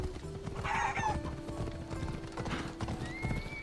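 Hooves clip-clop in a steady run as a horse is ridden in the video game Assassin's Creed Odyssey, with a whinny near the start and game ambience and music tones underneath.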